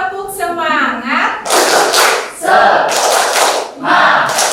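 A group claps a rhythmic 'tepuk semangat' cheer in a classroom lesson, short bursts of clapping that alternate with a teacher's spoken cues and children's voices.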